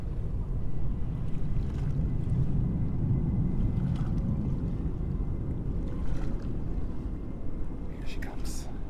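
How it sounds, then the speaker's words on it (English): Atlas Air Boeing 747-400 jet taking off at JFK airport, a continuous low, windy engine roar that stays steady throughout, heard from a distance with some wind buffeting on the microphone. "Next takeoff, Atlas 747-400."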